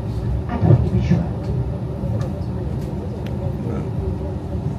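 A steady low rumble and rattle of a moving train heard from inside a carriage, continuous throughout with faint clicks above it.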